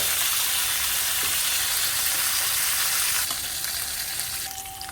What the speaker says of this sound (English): leave them, let them sear